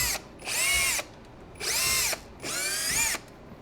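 A power screwdriver with a T9 Torx bit backing screws out of a 52V 18Ah robot battery pack: three close whirring runs of about half a second each, separated by short pauses, with no talking.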